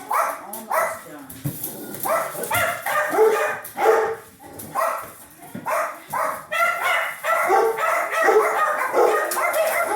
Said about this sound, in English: That big dog just hears something outside and he goes nuts